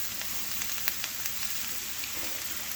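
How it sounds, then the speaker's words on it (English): Strips of cabbage hissing and sizzling steadily in a hot pan, a constant close crackle with small pops scattered through it and no talking. "Now we're going to add in that cabbage"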